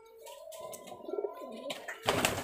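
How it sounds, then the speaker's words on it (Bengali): Giribaz high flyer pigeons cooing close by, a pair of them giving soft rolling, warbling coos that swell and dip, with a brief burst of rustling or flapping near the end. "এই আর এক জোড়া বাজির কবুতর দেখাচ্ছে"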